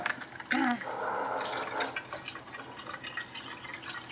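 Berries are washed in a bowl of water, with faint splashes and drips, a brief louder slosh near the start, then quieter trickling and rinsing.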